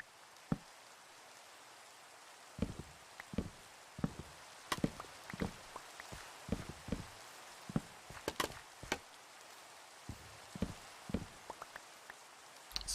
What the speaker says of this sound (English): As the rain continues to pour in our cheery medieval town.